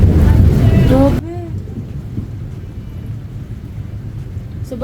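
Thunder from an approaching typhoon on a hot day turning rainy, a loud low rumble that cuts off abruptly after about a second and leaves a softer rumbling wash of rain and background noise.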